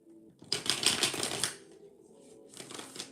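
Tarot cards are shuffled by hand in two brisk bursts of crisp, rapid riffling and flicking. The first burst is longer and louder, then a short quiet gap comes before a second, softer flurry, close and without speech.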